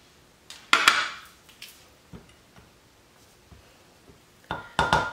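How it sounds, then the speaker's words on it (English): A spoon clinks and scrapes against a bowl while horseradish and vinegar sauce is stirred, with sharp irregular metallic clatters, louder bursts at the start and end, and quieter taps in between. "And we're just gonna give that a good mixing"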